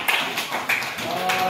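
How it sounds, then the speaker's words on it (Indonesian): An audience of schoolchildren in a Papua classroom clap their hands in a short burst of scattered, rhythmic claps heard up close, with a voice speaking over it. "Tepuk tangan lagi."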